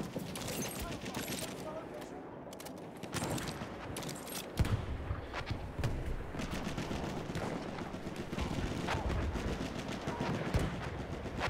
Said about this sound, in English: Enemy machine gun over there.